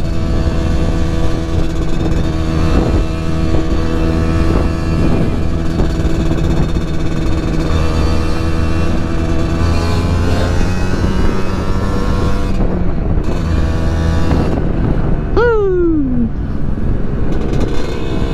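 Kawasaki Ninja SS 150 two-stroke motorcycle being ridden, its engine buzzing loud and steady with revs rising and falling, then a sharp high rev that quickly drops away near the end.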